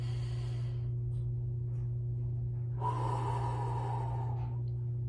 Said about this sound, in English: So we're gonna go inhale in through that nose.